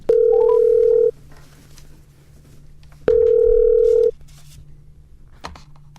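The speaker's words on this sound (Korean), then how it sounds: "서재민 작가를 연결해서 이 그림에 대한 이야기, 또 다른 대화 나눠보도록 하겠습니다" A telephone ringback tone heard while calling a guest for a radio-style book talk show: two loud, steady, close tones about a second long, separated by a two-second gap, with faint background noise between them.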